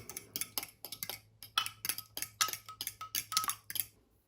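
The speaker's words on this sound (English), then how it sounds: "Lightly give it a whisk, just to bring it all together." Whisk ticking and clinking against a bowl while wet pancake batter ingredients are stirred together, a quick steady run of light metallic taps, close and alone.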